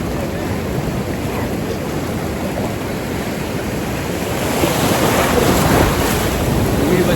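Big ocean waves break at Mypadu beach near Nellore as a loud, continuous roar of surf, heavily mixed with wind buffeting the microphone and swelling slightly toward the end.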